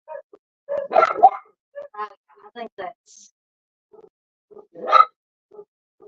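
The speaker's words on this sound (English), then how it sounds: "I'm sorry for the dogs barking." Household dogs bark in a few scattered bursts indoors, the barks mixed in with a person talking nearby.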